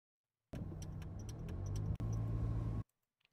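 Interior rumble of a car driving, a steady low engine and road drone for about two seconds, a brief break, then continuing at the same level before cutting off; faint clinks ride on top and no one speaks.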